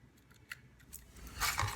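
Small screws being driven back into the motor housings of a Holy Stone F181 quadcopter during a motor replacement: quiet, close ticks and light scraping clicks, ending in a brief louder rustle of handling.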